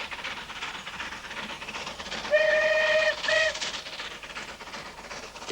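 Steam locomotive on the Settle and Carlisle line in the hills sounds a lonely whistle, two clear tonal blasts, the first longer, over a low rumble of the moving train at moderate distance.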